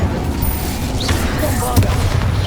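Incendio fire spell cast in Hogwarts Legacy, a loud burst of booming, crackling magic flaring over a dense, continuous bed of game effects and background noise, with a sharper flare near the end.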